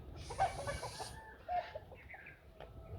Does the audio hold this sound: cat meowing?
no